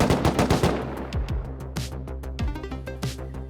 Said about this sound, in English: When we heard the sound of the shot from the AK